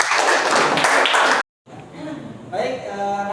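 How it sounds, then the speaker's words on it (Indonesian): Students in an Al-Qur'an Hadits classroom lesson clap together for about a second and a half. After a brief gap, a voice speaks. "Tepuk tangan buat kalian semua."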